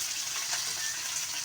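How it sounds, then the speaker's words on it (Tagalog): Fish frying in a home kitchen pan for a simple provincial-style dish, giving a steady, close hiss of sizzling oil that runs evenly throughout without pause, with no talking. "Pinirito ko muna yung isda."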